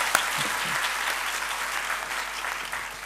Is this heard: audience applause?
yes